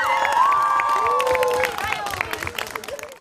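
A crowd at an Advent fitness and charity gathering applauds the donors, clapping mixed with loud cheering and children's high shouts, strongest at first and thinning to scattered claps and calls toward the end.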